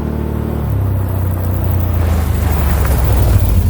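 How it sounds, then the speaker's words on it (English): A 2023 Can-Am Outlander XT850 ATV in high gear with engine braking on medium: a low engine rumble shifts pitch early, then swells into a louder, rising roar, close by and with no voices. "on this run I put the engine braking setting on medium and I accelerated"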